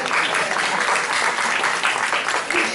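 A brief burst of dense, even applause fills a press-conference room for the Argentine film La odisea de los giles, with no voices standing out.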